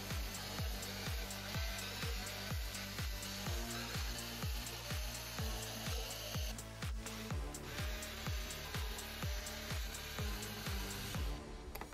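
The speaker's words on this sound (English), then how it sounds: "We will remove 12 screws to detach the panel, followed by 6 screws to uncover the battery compartment." A power screwdriver drives screws out of the bottom panel of a Marshall Kilburn III portable speaker during a teardown, making a fast, evenly pulsed whirring grind that runs steadily, with a short scraping break midway.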